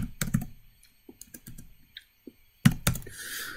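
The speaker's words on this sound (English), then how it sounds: "we go into a PowerShell terminal and we type process, get" Typing of a command into a PowerShell terminal on a computer keyboard: a quick run of close, crisp key clicks, then a sparse pause and a few louder final strokes.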